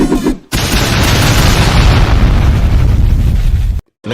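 A loud rocket-launch explosion in an animated countryballs cartoon: an abrupt booming burst that holds as a roaring blast for about three seconds, then cuts off sharply.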